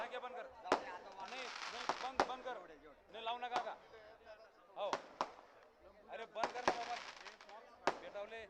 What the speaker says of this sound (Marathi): फटाके वाजवण्याचा थांबवा